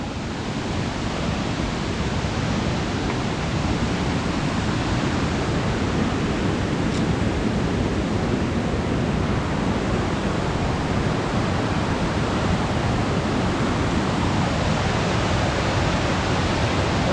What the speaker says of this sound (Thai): นี่ได้ยินเสียงน้ำตกครับ